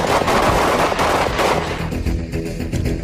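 A submachine gun fires fully automatic rounds in a loud rapid burst of shots with dense crackling reports, which ease slightly toward the end.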